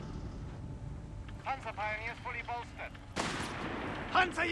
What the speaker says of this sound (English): AT gun rolls up, misses its shot though.